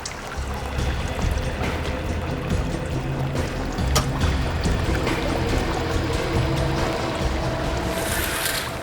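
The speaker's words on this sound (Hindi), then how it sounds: "पानी बहने की आवाज आ रही है।" Water pours and flows for several seconds in a dense, continuous rushing wash with occasional sharper splashes, fairly loud and close, with no speech.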